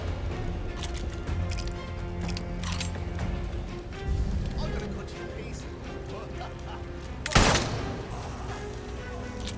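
Gunfire in Atomfall, with a few scattered shots and then one loud sharp crack near the end over game ambience, with someone talking throughout.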